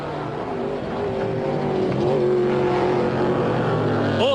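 A Shell Mustang Trans-Am race car at Pukekohe in 1994 roars close and loud, its engine holding a sustained drone that climbs in pitch as it accelerates, ending with a brief rising sweep.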